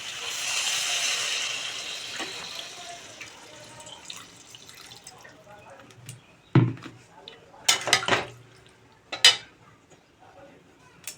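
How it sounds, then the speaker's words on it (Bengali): A little water poured into a hot cooking pan gives a loud, steady hiss that fades over a few seconds, followed by several sharp clinks of utensils against the pan. "একটু জল দিয়ে দেবো।"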